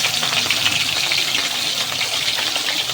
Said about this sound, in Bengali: প্রথমে ভাজবো কিন্তু খয়রা মাছগুলো এই মিডিয়াম তেলের মধ্যে